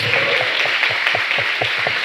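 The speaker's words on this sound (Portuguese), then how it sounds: "E pode aplaudir o Senhor bem forte." Church congregation clapping in praise during a Wednesday service, a loud, rhythmic beat of many hands keeping a steady pulse with low thumps underneath.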